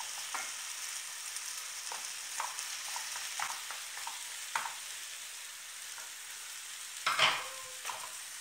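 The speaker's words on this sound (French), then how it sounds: "on va rajouter les œufs battus en omelette dans la farce, en mélangeant tout le temps," Beaten eggs cooking into a chicken filling for briouates over low heat, stirred continuously; a soft steady sizzle runs throughout with light scraping clicks of the spoon and a louder clatter near the end, no talking.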